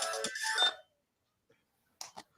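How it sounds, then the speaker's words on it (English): A phone rings with an incoming call: a bright electronic ringtone burst opens the clip, then after a silence two short higher tonal chirps sound, with no talking. "A phone call."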